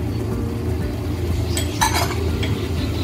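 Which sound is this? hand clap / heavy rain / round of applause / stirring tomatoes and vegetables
stirring tomatoes and vegetables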